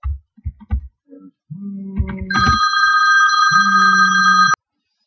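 A telephone rings loudly and close for about two seconds with a steady electronic tone. Scattered clicks and taps come before it.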